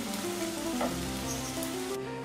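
Onions fry in a pan, kept half-cooked for a taki fish bharta, with a steady sizzle and crackle under a faint tonal hum in the background.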